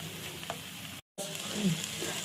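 Drumstick leaves sautéing in a pan for a rice dish give a steady, close sizzle with faint stirring scrapes, cut by a brief gap of silence midway.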